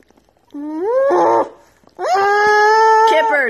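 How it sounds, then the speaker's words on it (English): A dog whimpers and howls close up in two drawn-out, rising cries separated by a short pause, loud and alone. "That's my dog, Kipper."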